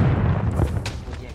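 A snowball explodes in Modern Warfare 3 holiday Infected mode, a short low boom with a sharp burst over a dense game mix, with a voice talking underneath.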